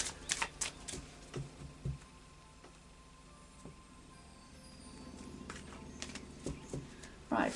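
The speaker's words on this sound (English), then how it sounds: "I'll just do a final shuffle now of the Oracle of Visions" Oracle cards are shuffled by hand in quiet bursts of soft riffling and tapping, scattered through the stretch with brief pauses between them.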